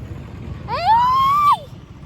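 Street traffic rumbles low in the background while a single vehicle horn sounds in one sustained honk of about a second, loud and near.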